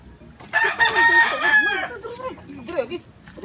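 Rooster crowing nearby, one long loud cock-a-doodle-doo followed by softer clucks, with people talking around it.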